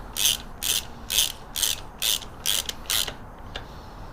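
A ratchet wrench tightens bolts on a Road Glide Special's S&S Stealth Stage 1 air intake, giving about seven evenly spaced bursts of loud, close clicking followed by a faint final click.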